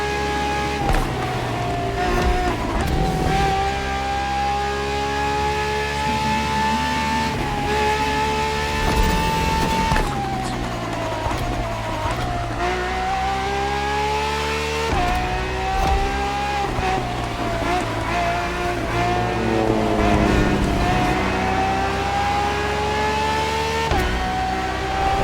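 A Ferrari FXX-K supercar in The Crew Motorfest racing game drives with a loud, steady engine drone that rises through repeated climbs in pitch as it accelerates and shifts gears, with no talk over it.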